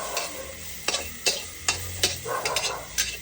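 Chili and garlic fry in a hot pan for Thai pad kra pao, a constant loud sizzle broken by several sharp scraping strokes of a spatula, close and without talk.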